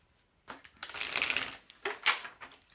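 Feeling cards being shuffled by hand, giving soft papery riffles and brushing bursts at close range, two main flurries with brief pauses between them and no voices.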